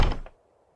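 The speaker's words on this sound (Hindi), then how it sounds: "दरवाजा क्यों बंद कर दिया?" A door shut with a single solid thunk, close and fairly loud, that dies away quickly into quiet, in a scene from an animated episode.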